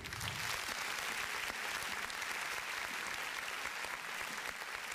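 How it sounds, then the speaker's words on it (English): Applause from a crowd, a steady wash of many hands clapping at moderate distance, continuing throughout without voices. "Round of applause for America."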